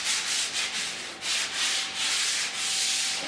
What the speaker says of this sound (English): Then I hand sanded with 180 grit paper